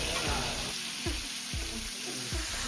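Ginger, garlic and cardamom sauté in a pan under a constant loud hiss, with soft rhythmic knocks of stirring about every half second, heard up close.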